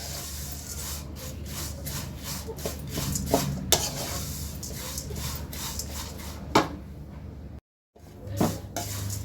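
A spoon stirs flattened rice (avalakki) as it roasts crisp in a pan, giving repeated scraping strokes and light clinks against the metal over a soft dry sizzle. A brief dropout comes near the end, and no one speaks.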